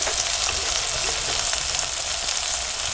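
Spices hitting hot oil in a frying pan while a village-style dudhi papad curry is cooked, giving a loud, steady, close sizzle that holds without a break.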